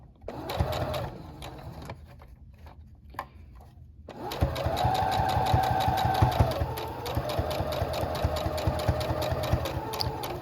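A sewing machine stitches fabric for doll slippers, starting with a few short bursts and brief pauses, then running continuously with a fast, rhythmic mechanical chatter close up.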